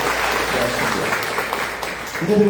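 A church congregation applauds during a Portuguese-language sermon, a dense steady wash of many hands clapping that fills the whole stretch, with faint voices underneath.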